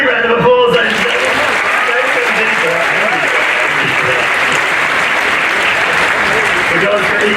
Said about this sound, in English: Give a big round of applause, ladies and gentlemen.